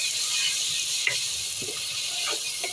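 Garlic and nigella seeds sizzle in hot oil for a mixed vegetable curry, giving a steady, close, hissing crackle with a few faint clicks of stirring.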